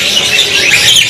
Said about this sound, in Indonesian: ini juga jalak putihnya gacor ya